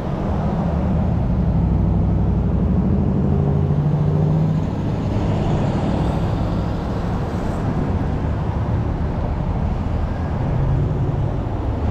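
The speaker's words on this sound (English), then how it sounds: "Comes a big blue something. Ice cream truck or a food truck of some sort." A big blue ice cream truck or food truck rolls past on a roadway, its steady engine and tire rumble loud and close for the whole stretch, with continuous traffic noise behind.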